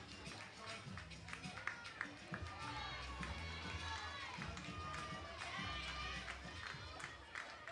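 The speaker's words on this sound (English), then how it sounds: "Crowd still buzzing after that shot." Steady crowd buzz fills the stands at a college softball game, Oklahoma hosting McNeese, a continuous dense murmur of many voices with scattered claps and shouts.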